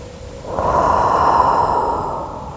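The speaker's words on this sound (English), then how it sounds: "Take another full round of breath here." A single deep breath taken during a yoga stretch, a soft airy exhale that swells and fades slowly, close to the listener with no talking.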